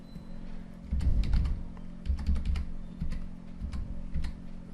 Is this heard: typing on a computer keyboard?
yes